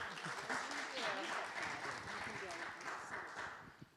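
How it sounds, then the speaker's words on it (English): A gathering at a startup event applauds a presenter, with a moderate, somewhat distant patter of clapping that sits under people talking nearby. "So let's clap for Joy."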